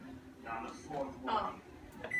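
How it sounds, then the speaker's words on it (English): A microwave oven set to defrost gives a short electronic beep near the end, after stretches of people talking close by. "So we're gonna stick these in the microwave to defrost."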